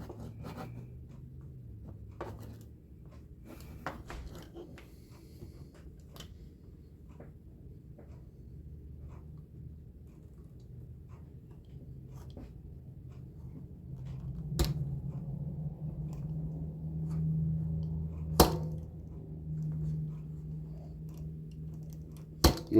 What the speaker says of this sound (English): Once I get it cut so far with my knife, I'll probably take my little snips even and cut right across it.